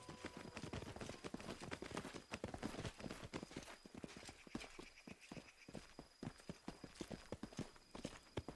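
Horse hooves clip-clopping in the Pathfinder role-playing video game, a steady run of sharp, evenly spaced hoof strikes at moderate volume, heard alone without talk.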